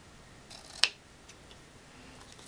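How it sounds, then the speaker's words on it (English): A single crisp snip of scissors trimming the ends of a tied satin ribbon for a small card, close and quiet in a still room. "so now I just need to trim my ends"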